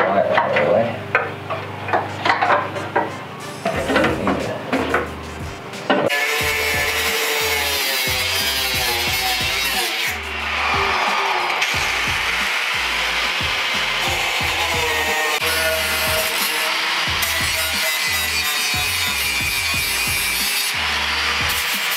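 A saw cuts through a part for an LED tail light conversion kit, starting with scattered rubbing and knocks, then settling into a steady, rhythmic rasping stroke after about six seconds that continues close and loud.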